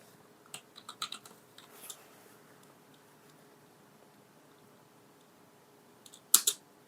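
Computer keyboard shortcut keys being pressed, heard as a few scattered soft clicks early on and a louder cluster of key presses near the end, close and quiet, with no talk.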